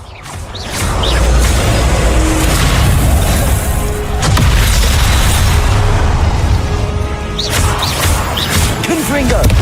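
Confringo fire spell blasts in the Hogwarts Legacy video game, with a sustained loud booming explosion over dense game action and music, and a second blast partway through.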